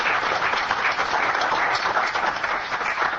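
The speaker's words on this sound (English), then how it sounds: "And I think, Lori, you deserve a huge applause for everything you've done" A room at a county board of supervisors meeting in Calaveras County breaks into steady, full applause, a close, continuous wash of many hands clapping without any talk.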